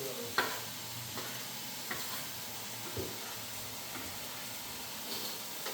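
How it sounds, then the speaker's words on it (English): Food sizzles steadily in a hot pan, a constant hiss broken by a few clinks of a utensil stirring. "I love the sound of the sizzle."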